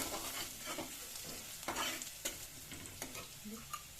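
Green chili spice paste frying and being stirred in a pan, a quiet close sizzle with soft scraping strokes of the spoon at irregular intervals, no voices.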